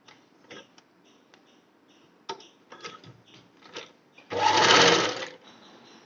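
A sewing machine stitches fabric for an umbrella-cut frock. A few scattered ticks and clicks lead into a single loud whirring run of stitching that lasts about a second, then it falls quiet again.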